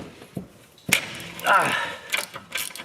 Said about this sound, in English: To remove this bracket, you will require a 17mm tool of your choice. Wrench, ratchet, and socket.